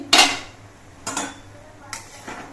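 A metal pot lid clanks and scrapes as it is lifted from a pan of boiled pointed gourds, three short metallic knocks spaced about a second apart.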